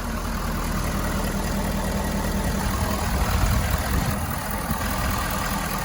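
A 2015 Ford F-350 Super Duty pickup with a 6.7 liter Powerstroke diesel idles steadily, a constant loud low rumble with even mechanical clatter heard up close, no talking.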